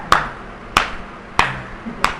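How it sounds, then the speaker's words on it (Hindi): Four crisp hand claps, evenly spaced about two-thirds of a second apart, sound sharp and close in a quiet room during a lecture. "आप ताली बजाते हैं"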